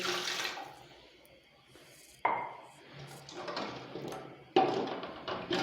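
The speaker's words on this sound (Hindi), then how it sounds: "पानी डाला और 1 गिलास हम इसके ऊपर एक्स्ट्रा डालेंगे चावल को पकाने के लिए" Water is poured into a cooking pot of rice and chicken for Punjabi chicken yakhni pulao, coming in a few separate splashing pours with quieter gaps between them, close and fairly loud.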